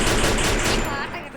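Rapid bursts of video game gunfire crackle close and loud, then fade out toward the end.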